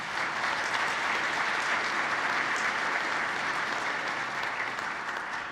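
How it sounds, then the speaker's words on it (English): Audience at a keynote award ceremony clapping for an absent award recipient: a sustained, even wash of applause from a large crowd, steady from start to finish with no voices standing out. "Please join me in a round of applause for Peter."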